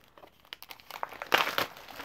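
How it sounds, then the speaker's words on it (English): Card kit packaging being cut and opened with scissors, giving a series of close, crisp crinkling and tearing sounds that build toward a louder rustle near the end. "So we'll open up this with our scissors."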